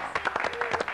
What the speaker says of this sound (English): Just applause.